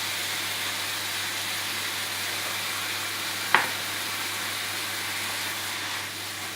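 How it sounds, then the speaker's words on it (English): Spring roll filling sizzles and hisses steadily in a frying pan while being stirred, with one sharp utensil clack partway through and no talk. "And give a good stir like that"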